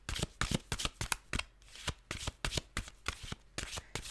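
Tarot cards being shuffled up close, a quick series of crisp riffling flutters and soft slaps in uneven bursts, with no speech.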